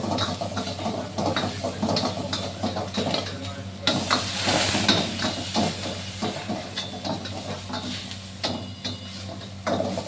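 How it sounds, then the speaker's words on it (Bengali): Chopped onion and garlic fry lightly in a pan for a dragon chicken dish, a steady close sizzle and hiss with repeated scraping stir strokes throughout, swelling louder midway. "chop, onion chop, garlic chop, এটা হালকা করে ভাজবো"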